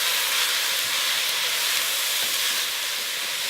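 Chorizo sausage strips frying in a pan for a pasta dish, giving a steady, continuous sizzle and hiss that holds at an even level throughout, close by, with no talking.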